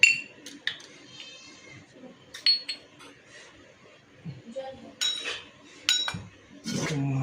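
Dishes and metal plates clink and ping in scattered light taps as puja offerings are arranged for household deities, close and fairly quiet, with someone speaking briefly between the clinks.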